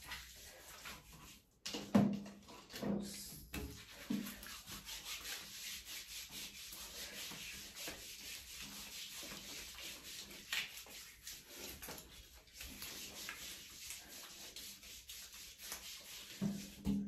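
A sugar body scrub is rubbed over skin in a shower, giving soft, close-up scratchy rubbing strokes in an uneven rhythm with some louder bumps, fairly quiet and with no talking.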